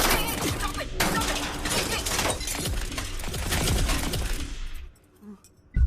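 Loud gunfire and shattering crashes from a dubbed Indian action film, a dense burst of shots and impacts lasting several seconds before cutting to near silence, with a final sharp hit at the end.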